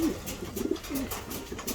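Pigeons coo in low, repeated throaty calls at a loft trap, several birds overlapping at moderate distance against a faint outdoor background.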